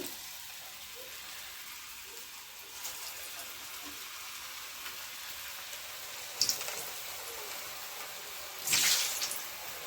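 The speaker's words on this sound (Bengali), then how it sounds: "এবারে পিঠেগুলো আমি তেলের মধ্যে একটা একটা করে ছেড়ে দিচ্ছি" Black gram dal pithas dropped one by one into hot white oil in a kadai give a steady, soft sizzling hiss, with two short louder spatters toward the end.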